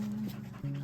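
A dog pants softly and quickly in a brief, close, quiet burst of breathy huffs.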